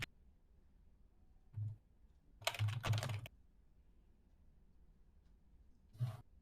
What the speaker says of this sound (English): I heard keyboard noises.